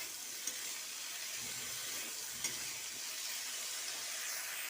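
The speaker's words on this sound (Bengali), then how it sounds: "এবার বেশ খানিকক্ষণ ধরে তরকারিটা কষাবো।" Curry filling for singara sizzles and fries steadily in a pan while being stirred, with a constant soft crackle and hiss and a few faint clinks of a spoon.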